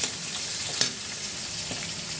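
Ginger and tomato sautéing in a pan, giving a loud, continuous close-up sizzle with a couple of brief stirring scrapes.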